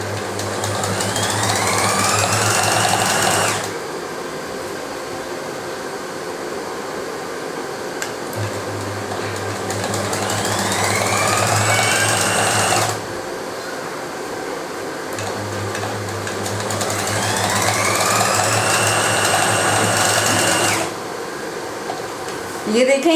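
Sewing machine stitching a kurta or shirt, running in three long bursts of steady motor whir, each several seconds, separated by short pauses, close and fairly loud.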